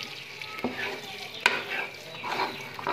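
A spoon stirs milk semolina halwa cooking in desi ghee in a pan, giving a soft scraping, bubbling sizzle with an occasional sharper clink against the pan.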